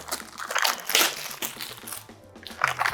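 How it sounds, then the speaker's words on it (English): Crinkling, crunching plastic and packaging being torn open from around a RIG 900 Max HX headset, loud and close, with busy bursts over a low steady tonal background. "And let's unwrap this."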